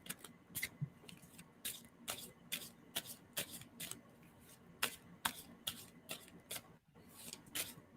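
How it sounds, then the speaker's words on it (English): Playing cards being shuffled, a series of crisp riffling clicks in irregular bursts, close and quiet. "Tell me to stop shuffling."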